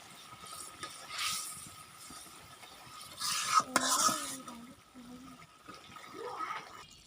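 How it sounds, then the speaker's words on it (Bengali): Fish stirred and fried in a spiced masala, with scraping stirs and light sizzling in bursts, close and fairly quiet, while a voice speaks briefly in the middle. "এখন হলো মাছগুলি দিয়ে দিলাম।"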